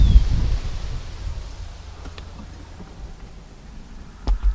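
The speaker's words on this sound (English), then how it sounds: "We're getting a really windy day." Low rumbling gusts buffet the microphone, strongest at the start and again at the very end, with faint rustling in between.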